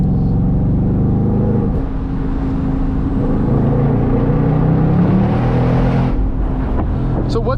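A 2024 Ford Mustang GT convertible's naturally aspirated Coyote V8 drones loudly and steadily from inside the car while driving, its pitch climbing through the revs, with a voice partly under the engine noise.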